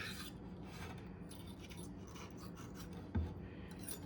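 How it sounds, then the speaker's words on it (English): A razor blade scrapes rust and dirt off a steel knife, a close, dry rasping that repeats in short uneven strokes, with one sharp knock partway through. "all that dust, rust and dirt that I just got off with just the razor blade"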